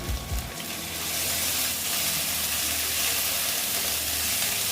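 Ginger garlic paste frying in a hot pan, a loud continuous sizzle with a brief stir at the start and no talking.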